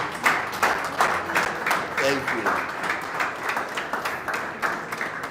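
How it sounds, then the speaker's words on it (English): Audience applause at a launch event for an AI and robotics research and training center at SQI College, a dense clatter of clapping filling the room with a voice speaking briefly over it. "a round of applause again for the face of SQI"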